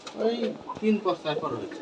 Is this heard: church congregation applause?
no